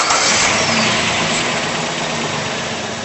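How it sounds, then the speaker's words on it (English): A rebuilt Jeep engine, refitted after a knocking fault, fires up and settles into a loud, steady idle close by, with a broad rumbling roar and no voices. "So the purring engine signals a successful refit"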